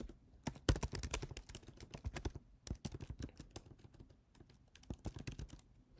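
Someone types on a computer keyboard close by, quick bursts of clicky keystrokes with short pauses between runs.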